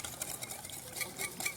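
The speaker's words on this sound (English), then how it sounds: "Just going to whisk it together." Ingredients are whisked together in a bowl, giving quick, faint scraping and ticking strokes of the whisk in a light, irregular rhythm with no talking.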